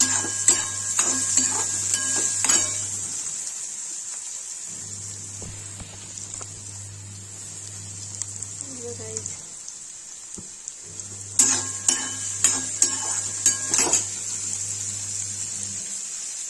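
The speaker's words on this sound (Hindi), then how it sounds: "और इसमें अदरक लहसुन का पेस्ट डाल देंगे, भूंजेंगे।" Ginger garlic paste frying in a pan for Kashmiri rajma, soft sizzling with bursts of rapid utensil clicks and stirring, alongside a low steady hum that comes and goes, no voices.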